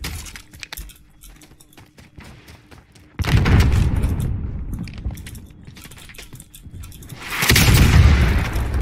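Gunfire in the video game Call of Duty Warzone with an SA-87, two loud bursts of rapid shots and booms separated by quieter clicks and rattles, with no voices over them.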